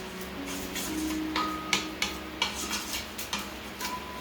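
A utensil stirring seasoning and turmeric into fried rice in a pan, giving close scraping clinks and taps in a loose rhythm over a steady background hum, with no talking.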